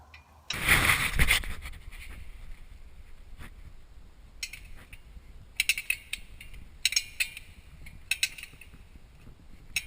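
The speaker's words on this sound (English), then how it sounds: "we'll remove the nut on the upper ball joint. I'm using a 7/8 combination wrench to do that." Combination wrench, 7/8 size, working the nut on a Jeep upper ball joint: a loud metallic clank early on, then several bursts of quick ratchet-like metal clicks and light taps at close range, with no talk.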